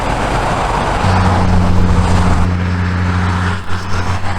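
Traffic on Highway 97 south of Bend, Oregon, a loud steady roar of a passing vehicle with a low engine hum that swells midway and then fades, with no talking.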